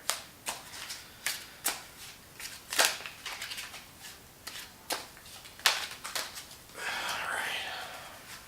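Repeated crisp riffling bursts of a tarot card deck being shuffled, close and fairly quiet, with a longer soft rustling stretch near the end and faint whispery voice.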